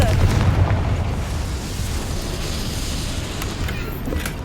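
Confringo blasting curse from Hogwarts Legacy bursting into a loud, sustained fiery roar with deep rumbling low end, opening with a heavy blast that keeps churning steadily for several seconds.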